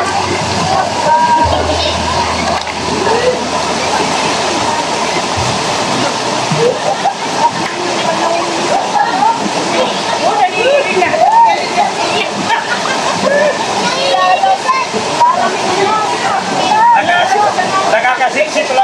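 Continuous rushing and sloshing water with splashes, loud and close throughout, with people talking and shouting over the noise.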